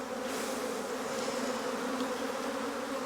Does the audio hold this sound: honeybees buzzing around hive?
yes